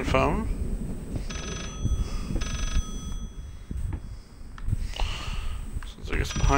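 A telephone rings in the horror game Layers of Fear, two short bursts of a bright electronic ring heard faintly over steady background noise and footsteps, with a person talking around it.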